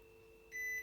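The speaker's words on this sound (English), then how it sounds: "it will beep to indicate it's unmuted" A Hisense WFQP9014EVM washing machine lets out a single steady electronic beep, loud and close, lasting about a quarter second over a low mechanical hum.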